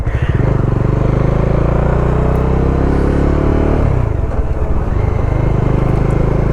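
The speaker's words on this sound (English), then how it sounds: "I feel the engine is more buzzier than the Himalayan" Bajaj Dominar 400 BS6 motorcycle riding in fourth gear: a loud, buzzy single-cylinder engine drone rising in pitch, dipping briefly as the throttle eases, then holding steady, heard up close with wind rush.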